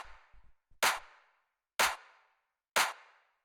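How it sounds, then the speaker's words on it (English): Fat mid-range clap drum sample for house music, three sharp, loud claps spaced about a second apart, each with a short bright tail, preceded by a few soft low thumps. "So the first thing we got is the clap"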